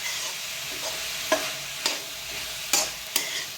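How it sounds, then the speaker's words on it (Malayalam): Onions stir-frying for Trivandrum-style kothu parotta, a steady sizzle in the pan broken by several sharp spatula clacks scraping and tossing at irregular intervals. "ഇനി സവോള ഏകദേശം കുറച്ചൊന്നൊരു ബ്രൗൺ കളർ ആവുന്നത് വരെ നമുക്കിതൊന്ന് വഴറ്റിയെടുക്കണം."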